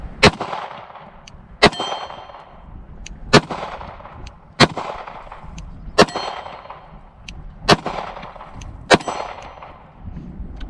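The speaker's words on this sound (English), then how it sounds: "see where it's hitting on the gong" Pistol shots fired with a Z1-G green-dot sight and AimSurplus DP double-port slide, 124-grain rounds ringing off a steel gong target: eight sharp cracks, each followed by a metallic ring, evenly spaced about every 1.3 seconds.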